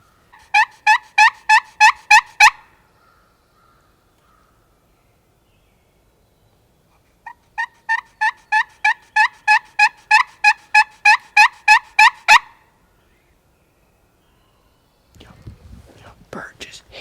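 A wild turkey gobbles in two loud bursts of rapid, rattling gobbles, each about a dozen notes, during a spring hunt in Maine, answering a slate call, with a long pause between bursts and faint rustling at the end.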